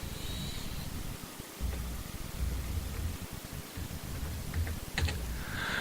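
Quiet tapping of keys on a computer keyboard as a password is entered, a few soft clicks and short bursts against a steady background hiss.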